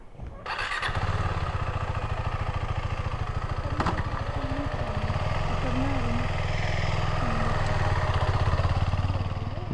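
A KTM 390 Adventure motorcycle engine starts with a short cranking burst, then settles into a steady, loud, close idle with a buzzy single-cylinder pulse and a few faint squeaks over it.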